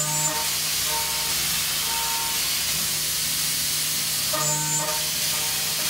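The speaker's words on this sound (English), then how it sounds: "I'm always impressed by the speed of that tool change." A Haas DM-2 or DT-2 CNC machine runs with a steady, close hiss of coolant spray and air, while brief whirring bursts mark quick tool changes.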